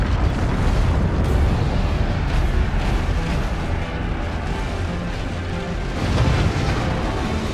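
A fort is destroyed in the physics strategy game Forts, producing a loud, sustained roar of explosions and crumbling debris that stays dense and rumbling throughout, with a few stronger bursts near the start and end.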